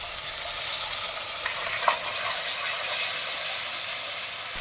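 Tomato ketchup is stirred into a pan of chilli soybean noodles, a continuous bright sizzle of frying under a soft scrape of stirring and one or two small clinks.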